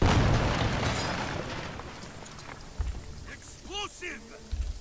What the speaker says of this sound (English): Take a grenade.